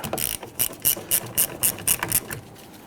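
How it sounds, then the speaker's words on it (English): A 1/4 inch ratchet loosens 10mm bolts on the side mirror of a 2011-2015 Kia Sorento, giving about eight sharp, close, rhythmic clicking bursts before falling quiet. "I want to go right to the three 10mm bolts here. I'm going to use my 1/4" ratchet."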